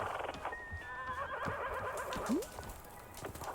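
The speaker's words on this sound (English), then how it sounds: "Trying to hear that fucking horse." A horse whinnies in a long, wavering neigh in the video game Wanderstop, with soft hoofbeats and ambient game sounds underneath.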